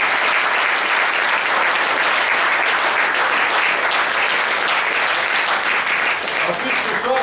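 A dense, steady wash of audience clapping from a crowd at a live show fills the room loudly and evenly throughout, with faint voices underneath.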